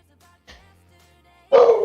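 Dogs barking nearby: a faint yip partway in, then one loud close bark near the end after mostly quiet background.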